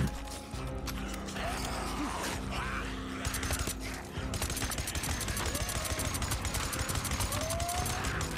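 Suppressed gunshots from the video game Days Gone, fired from a silenced gun, come as a run of sharp, fairly loud clicks and thumps over busy in-game ambience with creaks and mechanical noise.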